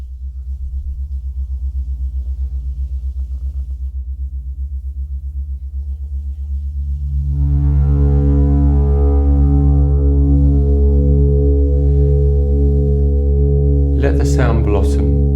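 A gong is rubbed with a B Love Flumie friction mallet, giving a deep, steady drone that swells into a louder, richer sustained tone about halfway through and keeps ringing.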